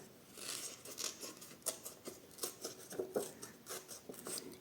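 Folded supermarket catalogue paper is torn by hand along the crease, giving a close series of short, crisp ripping bursts in quick irregular succession.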